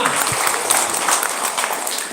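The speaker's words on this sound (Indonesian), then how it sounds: "tepuk tangan untuk kelompok 5" A church group gathering applauds another group with a short burst of brisk, close hand clapping that is loud and dense and fades slightly at the end.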